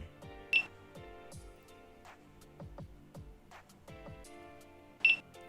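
Two short, sharp electronic beeps from a Timemore Black Mirror digital coffee scale, about four seconds apart, with faint tapping and light clicks in between.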